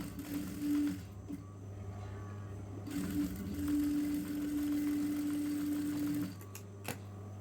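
A sewing machine runs close up, double-stitching the neckline of a lined churidar top. It gives a steady mechanical whir in bursts of a few seconds with short pauses between runs, and no talk.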